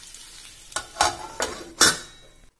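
Stuffed pointed gourd (bharwa parwal) fries in a covered pan, its sizzle broken by four louder bursts of stirring or lid clatter, close and with no voices.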